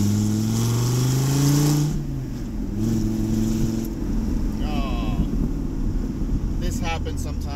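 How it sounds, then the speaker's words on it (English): Dodge Viper exhaust heard with the window open while cruising a mountain road near Mexico City, a loud low engine drone with rising revs early on, plus wind rush and a person talking over it. "So I'm gonna open up the window so you can hear the exhaust."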